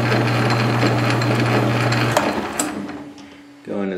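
A metal lathe runs with a steady mechanical whine and hum, then winds down partway through as it is shut off, followed by a brief voice near the end.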